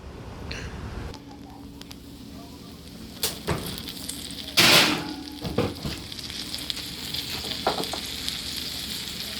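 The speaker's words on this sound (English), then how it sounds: "Yep, Daddy's cooking purple potatoes." Purple potatoes sizzle and fry in a pan on a grill, a steady crackling hiss throughout with a few louder stirring scrapes and bursts partway through.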